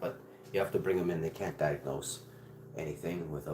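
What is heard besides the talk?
No everyday noise stands out behind the speech.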